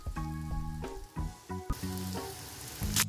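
Tempura fries in a pan with a steady crackling sizzle that continues throughout the short stretch, set against background music.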